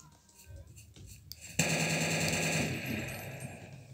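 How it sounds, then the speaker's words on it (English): A weapon reload in the video game Insurgency: a few light clicks lead into a sharp metallic clack, followed by a sustained mechanical rattle that fades. "It has a pretty satisfying reload animation."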